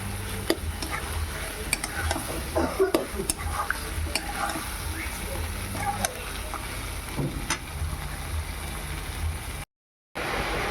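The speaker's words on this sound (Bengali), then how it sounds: "তো কষা হচ্ছে খুব ভালো করে কষে নেব" Goat meat trimmings are sautéed and stirred in a pan with a steady sizzle and intermittent clinks and scrapes of a ladle. No one speaks, and the sound cuts out briefly near the end.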